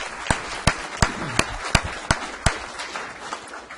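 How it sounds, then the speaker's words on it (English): A small group claps at a city council meeting in Regina, the applause sparse and rhythmic with distinct individual claps at about three per second, thinning out after a few seconds. "So let's give him a nice round of applause."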